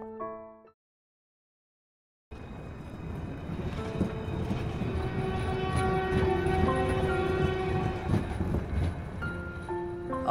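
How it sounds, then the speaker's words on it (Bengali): A cartoon train rolls past after a brief quiet gap, with a steady rumbling roar, rhythmic clatter of wagons and a sustained horn tone, loud and close throughout. "তার উপর আবার ট্রেন মিস করে ফেললাম"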